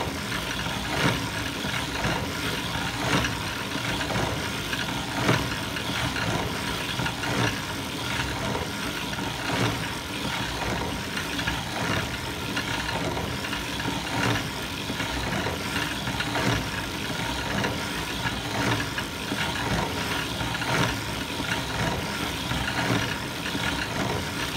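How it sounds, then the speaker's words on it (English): A hand-cranked vintage circular sock knitting machine runs in a steady, rhythmic mechanical clatter that continues at an even pace throughout, with no voices. "I'm cranking about 50 rows, give or take, depending on the tightness of my tension"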